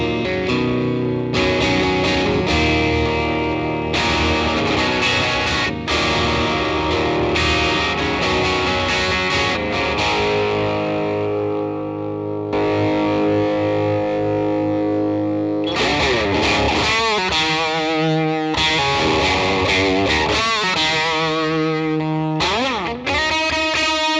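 Fingerpicked electric guitar through a NUX Solid Studio Mk II amp modeller, with a distorted, grungy tone, plays picked notes and chords continuously for the whole stretch, loud and up close.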